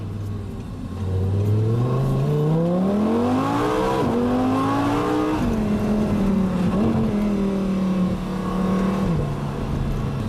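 An Audi R8 V10 Spyder engine climbs steadily through its rev range to a high wail, then drops back and holds a lower drone, loud and close with no talking.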